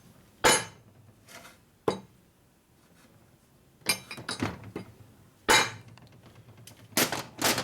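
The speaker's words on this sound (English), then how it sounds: "Use a plastic hammer." A plastic hammer strikes the transmission case of a 1961 Harley-Davidson Sportster XLCH in a workshop, giving about seven sharp, close knocks spaced by short pauses, with some blows coming in quick pairs and no talking.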